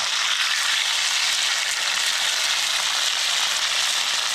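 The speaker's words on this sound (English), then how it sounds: "we're gonna turn these potatoes here. They're smoking a little bit." Potatoes fry in a pan over a campfire, giving a steady, close, even sizzle that holds without pause.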